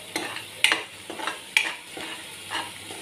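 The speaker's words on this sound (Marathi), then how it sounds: "हे परतून घेऊ मसाले छान" Spices are stir-fried in oil for a mutton curry, with a soft ongoing sizzle broken by several sharp scrapes of a spoon against the pan, close by and without talking.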